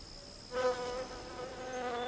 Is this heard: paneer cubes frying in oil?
no